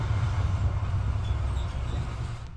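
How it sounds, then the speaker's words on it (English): Class 175 regional diesel train built from 1999, a low steady rumble of the running train with a constant hum underneath, fairly quiet and even throughout, no talking. "This is the Class 175, a second-hand regional train built from 1999."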